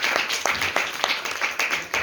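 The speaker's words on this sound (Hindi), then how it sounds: "एक बार तालियां बजा दीजिए" An audience at a live stage recital claps together in a brisk, even rhythm, a steady run of loud, close hand claps lasting a couple of seconds with no speech over it.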